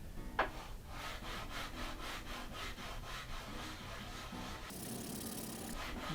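A sanding block rubbed back and forth over a wooden five-string bass guitar body, with rhythmic rasping strokes at a steady pace, close and moderately loud, shifting to a brighter scrape near the end.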